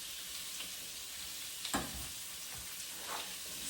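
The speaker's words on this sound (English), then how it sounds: "So now I'm going to drop in the pork." Pork and carrot pieces frying side by side in a pan for a pork and cauliflower stir fry, giving a steady soft hiss with a brief louder crackle as the meat drops in.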